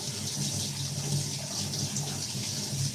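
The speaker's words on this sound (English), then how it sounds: "But first, I'll wash my hands." Hands are washed under a running tap at home, a steady close hiss of flowing water splashing continuously without pause.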